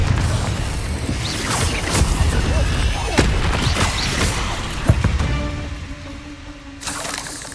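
Confringo fire-blast spell explosions in Hogwarts Legacy, a rapid series of loud cracking booms and crashes over busy combat noise, ending with a steady tonal hum after the blasts die down.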